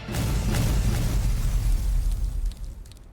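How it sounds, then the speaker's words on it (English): A chain of explosions tears through a corridor, a loud booming roar with layered bursts that rumbles for a few seconds and then gradually fades away. "A chain of explosions erupt, instantly turning the corridor into an inferno."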